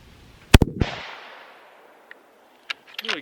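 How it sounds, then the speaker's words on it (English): A single sharp 22-250 rifle shot cracks out at an outdoor 100-yard range, followed by a long fading echo. A few faint clicks and handling noises come afterward. "Here goes the first shot."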